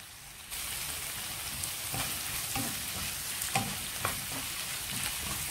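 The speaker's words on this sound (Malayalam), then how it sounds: "ഇതിന്റെ പച്ചമണം മാറുന്ന വരെ വഴറ്റിയെടുക്കാം നമുക്ക്." Ginger and green chillies sautéing in a hot pan for chicken mughlai, a steady close sizzle broken by a few spoon scrapes and stirring taps, with no voices.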